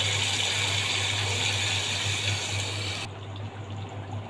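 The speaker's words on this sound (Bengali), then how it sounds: "এখন আমি পরিমাণ মতো পানি দিয়ে দেব।" Water poured into a pan of spice paste with eggs for egg curry, a steady rushing gush that drops off abruptly partway through, leaving a softer bubbling simmer and a low hum.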